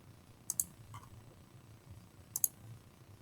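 Computer mouse clicks while drawing sketch lines in Inventor CAD software, two pairs of sharp, quiet double clicks about two seconds apart over a faint background hum.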